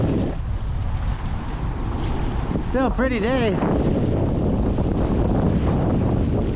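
Wind roars and buffets steadily across the microphone while sailing a Hobie Getaway catamaran off South Padre, with water washing constantly underneath. Someone speaks briefly midway through.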